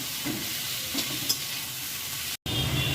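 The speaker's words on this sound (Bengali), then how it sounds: "এটাকে ভালো করে নেড়ে ছেড়ে প্রথমে আলুটাকে আমি আধা ভাজা মতন করে নেব" Chopped potatoes and onion stir-frying in a pan, a steady close sizzle with occasional stirring scrapes and a brief cut in the sound near the end.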